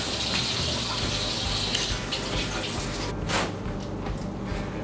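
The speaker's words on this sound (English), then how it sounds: "We're gonna quickly rinse it off. Some cold water." Cold tap water runs steadily over frog legs being rinsed in a kitchen sink, a close, continuous splashing wash that holds for several seconds with a brief surge near the end.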